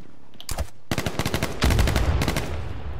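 Rapid bursts of automatic gunfire from the H1Z1 video game on PS4, aimed at a quad vehicle: a short shot, then a dense rattling volley and a sustained, heavier stream of close, loud fire.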